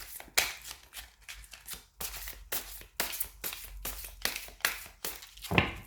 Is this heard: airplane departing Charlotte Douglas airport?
no